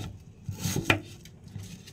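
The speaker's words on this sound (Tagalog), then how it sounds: "iwa-hiwain lang po natin" A knife slices through cucumber, green apple and ginger on a cutting board for juice, giving a few soft, close chops and one sharper knock against the board.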